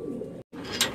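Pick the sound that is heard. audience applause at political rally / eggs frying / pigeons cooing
pigeons cooing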